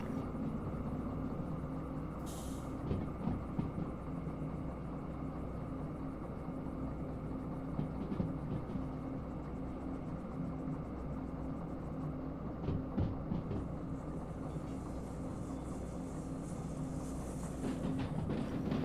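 A train rolls along the rails in the Derail Valley game with a continuous low rumble and rattle, plus occasional faint clanks and a squeal, steady and moderately loud throughout.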